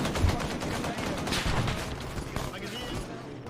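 Rapid gunfire in the military shooter ArmA, a dense burst of shots filling the clip with no spoken words over it.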